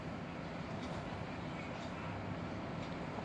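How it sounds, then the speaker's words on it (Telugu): Trains run past alongside a moving Vande Bharat train, a steady low rumbling roar of rolling wheels that stays constant and fairly faint throughout, with no clear voices. "పక్కన ట్రైన్లు వెళ్తూ ఉన్నాయి"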